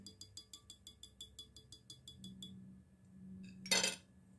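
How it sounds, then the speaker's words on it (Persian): A metal hand whisk clinks rapidly and evenly against a bowl about fourteen times while sweets are being made, then after a short pause it clatters loudly as it is set down on the counter. "خب اینجا دیگه من این همزن رو میذارم کنار"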